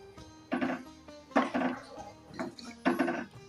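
Soybean and katla fish curry stirred in a pot after water is added, giving a few irregular scraping, clinking strokes of a utensil against the pot, close and fairly clear, with a faint background hum.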